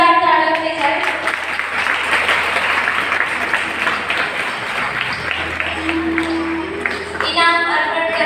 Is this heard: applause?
yes